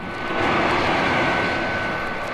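A cartoon robot plane's engine drones steadily as it flies, a loud, continuous whooshing roar with a faint steady tone, no speech over it.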